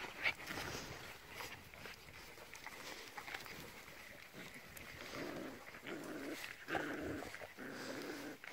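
Old Time Scotch Collie pups play together, growling and grumbling in bursts with small yips, close but fairly quiet.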